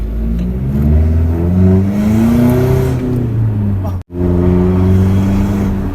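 Remapped 1.9-litre diesel engine revving hard as the accelerator is pressed, a loud rising and falling drone with a brief cut near the end before pulling again, with people talking over it.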